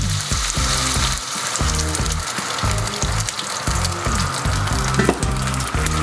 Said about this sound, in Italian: vado ad aggiungere dell'acqua